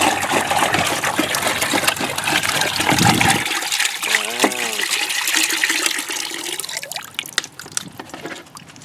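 Water is poured into a container to mix with Metal Rescue concentrate, a loud close gushing splash for about three seconds, then trickles, drips and gurgles.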